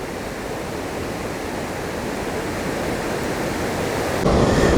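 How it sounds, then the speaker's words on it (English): Kakabeka Falls in Ontario roars as a steady, broadband rush of falling water, heard close and loud. The rush grows slightly over time and jumps in level near the end, with no speech. "I would say that is quite a dynamic waterfall."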